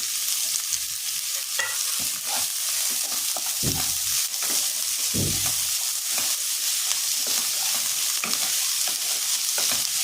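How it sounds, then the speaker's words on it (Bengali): Onions sizzle steadily in a hot pan, a continuous bright crackle, with occasional scraping clinks of a spatula stirring. "পেঁয়াজটা আমি এখন ভেজে নিচ্ছি"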